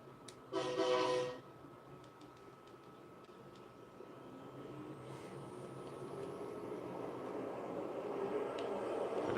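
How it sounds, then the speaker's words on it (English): An Amtrak train in the video game Southline District sounds a short, loud horn blast near the start, then a low rumble builds steadily louder as the train moves, with faint clicks and no talk. "We're using the Y to turn on the Amtrak."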